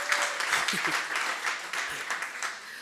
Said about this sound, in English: I think we need a good round of applause